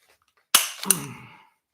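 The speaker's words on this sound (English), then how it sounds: "Now try to rack that bolt." An AR rifle's bolt is racked with an aftermarket 30-round magazine seated, giving two sharp, close metallic clacks about a third of a second apart, the second ringing briefly before fading into quiet.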